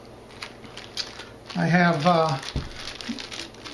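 A plastic bag holding cordage from a personal survival kit is handled, giving soft crinkling around a brief spoken phrase from a nearby man.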